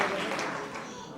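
Audience applause at a church plenary session, heard as a short, dense wash of clapping from a crowd, loud at first and easing slightly, with speech mixed in.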